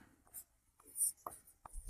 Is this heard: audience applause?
no